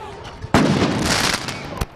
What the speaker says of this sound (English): because of a large firework that went off at my feet